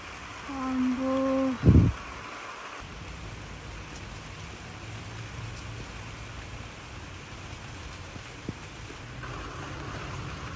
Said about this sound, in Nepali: घाम पनि लागिरहेको छ, पानी पनि परिरहेको छ